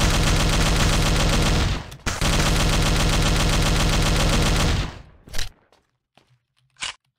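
Loud, close rifle gunfire from a WW2 PC shooter rattles in sustained rapid bursts with a brief pause, then trails off into a few scattered, fainter shots and clicks.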